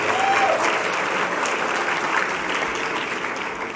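Sustained audience applause at a justice teach-in general session, a steady dense wash of many hands clapping at even loudness throughout, with no voices over it.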